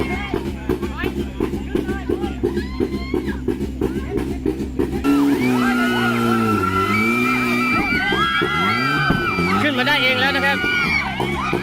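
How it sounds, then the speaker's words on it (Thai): Loud crowd screaming and cheering at the Khao Noi Offroad Challenge 4x4 event, with high-pitched shrieks rising over a constant roar and a busy mix of voices throughout. "เสียงกรี๊ดครับ เสียงกรี๊ดนะ"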